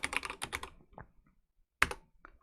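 Keys clatter on a computer keyboard in two quick bursts of typing separated by a pause, close and fairly quiet.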